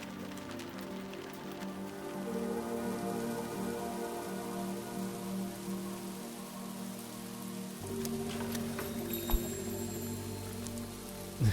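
Steady rain patter with ambient weather sounds and a low musical drone in the video game Book of Hours, continuous and fairly loud, shifting slightly in tone partway through, with no talking.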